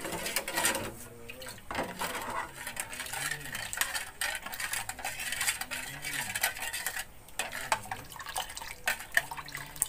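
A spoon stirs agar-agar jelly mixture in a pot for rainbow jelly, with clinking metal taps and liquid sloshing and dripping that come in irregular bursts, fairly close.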